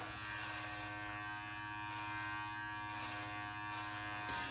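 An electric beard trimmer buzzes steadily as it trims a short beard under the chin, a continuous close motor drone with a faint mains-like hum and no speech.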